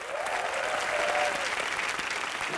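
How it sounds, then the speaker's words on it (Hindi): Studio audience on an Indian television entertainment show breaks into steady, loud applause that fills the whole short stretch, a dense wash of clapping with a faint tone drifting beneath it. "जोरदार तालियां"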